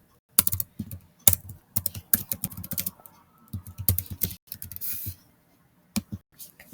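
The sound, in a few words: typing on a computer keyboard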